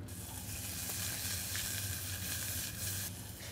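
Finely sliced banana shallot and garlic sweating over gentle heat in a pan, a soft, even, low-level sizzle holding steady without breaks or voices.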